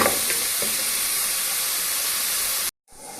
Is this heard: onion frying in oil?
yes